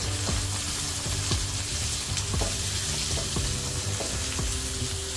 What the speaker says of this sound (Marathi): त्यात कांदा आणि टोमॅटो थोडा नरम होईपर्यंत, ब्राऊन होईपर्यंत फ्राय करून घ्यायचे व्यवस्थित तेलात